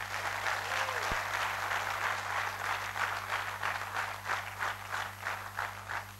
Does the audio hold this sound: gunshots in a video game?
no